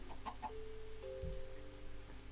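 Minecraft chickens cluck in a few short, soft calls near the start, followed by a steady tone and a brief low thump, all fairly quiet with no one talking.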